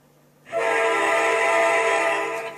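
Locomotive horn from the Trainz railway simulator, one long sustained chord blast of about two seconds that starts suddenly and fades slightly at the end, loud and alone.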